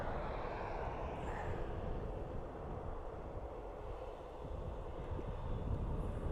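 A steady, distant roar from an older Aer Lingus Airbus A320-200 jet departing Dublin Airport, a continuous broad rumble with no talking.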